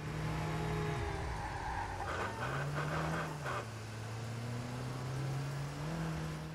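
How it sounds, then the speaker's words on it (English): A car engine in the video game Watch Dogs drones steadily, its pitch dipping and rising as it revs after the car was set on fire, with a brief burst of rougher noise partway through. "Is that the sound of my car?"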